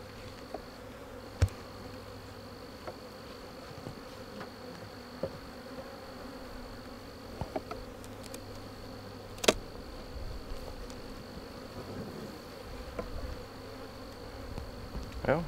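Honeybees buzz steadily in an open hive box during a swarm-prevention inspection, a soft continuous hum with scattered light clicks and knocks from handling the frames.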